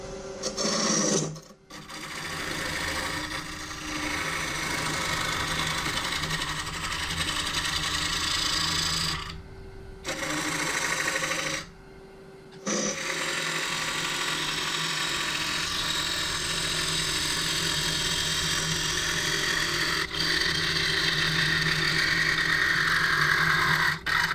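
A wood lathe spins a bowl blank while a gouge cuts the wood with a continuous rasping, scraping drone, broken twice by short pauses before the cutting resumes close and fairly loud.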